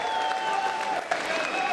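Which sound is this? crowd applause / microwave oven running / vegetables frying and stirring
crowd applause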